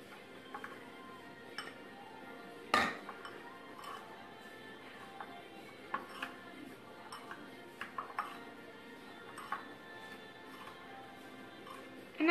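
Homemade natural body scrub being mixed in a bowl, soft scraping with scattered clinks of a utensil against the bowl, one sharper knock, quiet and close with no talking.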